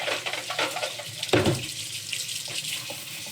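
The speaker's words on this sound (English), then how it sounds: "I'm going to rinse them off through a strainer" A kitchen tap runs steadily into a metal strainer of freshly dug clams set over a pot, a close, continuous splashing rush with a brief louder gush partway through.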